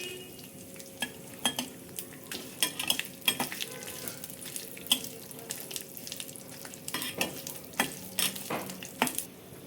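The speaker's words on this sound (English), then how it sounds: "Once the sesame seeds stop spluttering and the red chilies change their color" Sesame seeds and dried red chilies splutter and crackle in hot oil, a steady frying sizzle broken by irregular sharp pops and occasional stirring clinks of a utensil against the pan, close and moderately loud with no talking.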